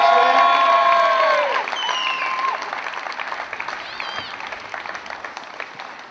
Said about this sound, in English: I think we need to give a big round of applause to Fulwood